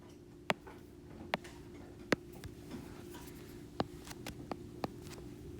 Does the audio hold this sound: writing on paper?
yes